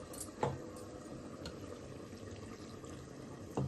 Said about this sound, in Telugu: ఇందులో కొన్ని వాటర్ వేసుకోవాలి.